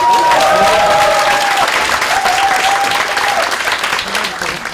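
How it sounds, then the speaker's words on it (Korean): A large audience claps and cheers steadily, the applause staying loud throughout before easing slightly near the end. "박수 쳐주세요"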